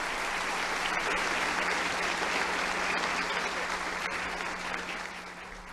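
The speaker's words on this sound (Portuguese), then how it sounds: "Vamos recebê-lo com a salva de palmas" A church audience applauds a visiting preacher with sustained, dense clapping that holds steady for several seconds before tapering off, with faint voices mixed in.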